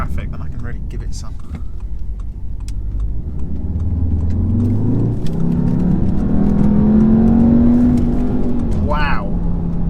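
An Audi TTS accelerates hard in traffic, its engine note climbing steadily through the revs over several seconds, heard from inside the cabin with a short voice near the end.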